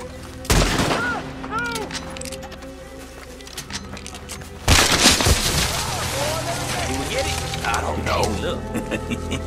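Gunfire in the video game Red Dead Redemption 2: two sharp, loud volleys of shots, the second heavier, each followed by a rattling tail and background game ambience, with voices calling out over it.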